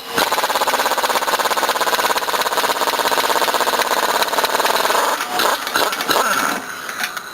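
A pneumatic impact gun on a workshop air system, used on a Corolla, hammers loudly and steadily for about five seconds, then stutters in short bursts before tapering off.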